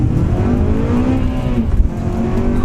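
A Honda Civic Type R Championship White Edition accelerates hard on a timed run, its engine roaring loud and close with a rising, strained note and faint tire noise, and no voices.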